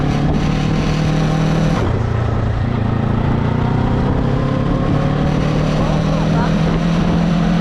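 Yamaha R3 motorcycle, 2025 model fitted with a quick shifter, riding steadily as the rider upshifts without the clutch, with a brief dip in engine note near the two-second mark before the drone resumes, continuous and loud alongside wind noise.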